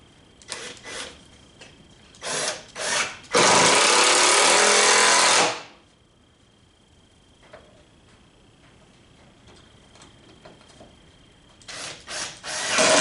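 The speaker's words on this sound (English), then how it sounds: "thing somewhat in place while I use the power hacksaw on it" A power hacksaw cuts through metal in short bursts, with one sustained loud stretch of harsh rasping grind before falling quiet, then starting up again, heard up close.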